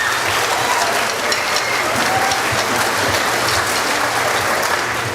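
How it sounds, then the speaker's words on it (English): An audience applauding after a school orchestra concert, with dense sustained clapping from a large crowd, loud and continuous with no pauses. "One more round of applause."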